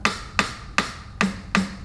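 Roland TD-17KV electronic drum kit with a drum pad struck five times, alternating head hits and rim clicks in a quick, even rhythm, sharp close taps with short decays and no talking.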